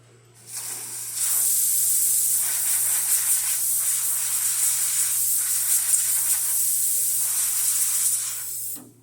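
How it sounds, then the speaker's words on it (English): The steam wand on a La Spaziale Lucca mini espresso machine, just serviced, hisses in a loud, steady, close burst that swells in after half a second, holds for about seven seconds with slight surges, then cuts off. "Steamer works perfect too."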